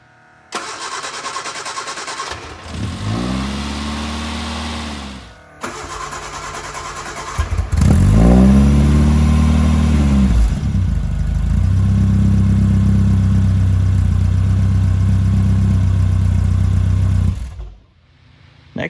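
A 1969 Mark IV Sprite engine cranks and catches from cold, stalls briefly, then cranks again and settles into a loud, steady idle up close, with no talk.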